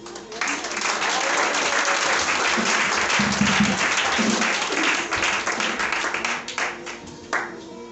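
A church congregation applauding steadily and loudly, a dense wash of clapping hands that holds throughout and thins slightly near the end, with voices mixed in.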